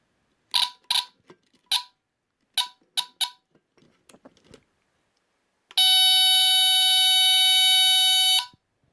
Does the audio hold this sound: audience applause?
no